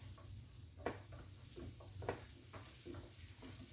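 Thinly sliced broccoli sizzles in a hot pan with chicken for linguine, a steady close frying hiss under scattered clicks and scrapes of stirring.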